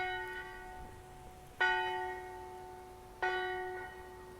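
A clock bell strikes three times at a slow, even pace at four o'clock, each clear ringing tone decaying before the next, heard at moderate distance outdoors at The Mount in Fleetwood.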